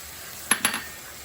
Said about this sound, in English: I'm going to add in all the chopped vegetables.